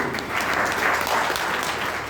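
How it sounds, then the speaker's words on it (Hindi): Loud, dense applause from an audience at a political meeting in Gonda, a steady burst of clapping filling the whole moment with no speech over it. "हमारे राजेश पांडे सर बैठे, जोरदार ताली होनी चाहिए"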